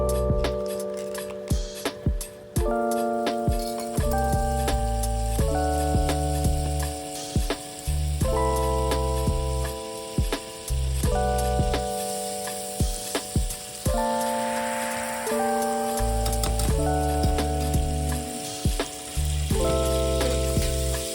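Oil and butter sizzle steadily in a skillet for a bechamel sauce, a continuous loud frying hiss under strong background music with no talk.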